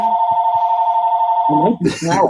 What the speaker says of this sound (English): Is that your phone, Dom?